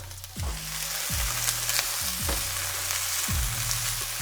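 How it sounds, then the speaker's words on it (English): Loud, steady sizzling of chopped red pepper frying in a hot pan, with a few scraping stirs. "And then you put your sizzling chopped red pepper."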